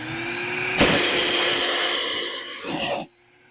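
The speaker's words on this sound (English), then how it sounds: "Once you hear that air pump start up" A cyclone blower air pump runs steadily while blowing out pool lines during a pool closing, a loud continuous whooshing drone with a sharp burst near the start and a surge before it cuts off abruptly.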